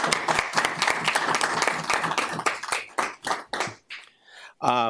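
Audience members at a city council meeting clap together, a lively burst of many hands that thins into scattered claps and stops, with a voice starting up right at the end.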